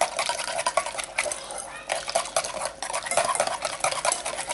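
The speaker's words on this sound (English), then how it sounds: "we'll whisk this" Brisk, continuous scraping and clinking of a whisk beating thick peanut butter cookie dough with shortening in a bowl, close up and steady, with a few louder taps against the sides.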